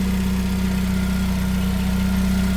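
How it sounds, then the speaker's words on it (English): A 2016 Toyota 5000 lb pneumatic forklift engine idling, a steady, even low hum with a constant pulsing rumble and no knocking, running alone without speech. "you just want to listen to the engine, especially when it's cold"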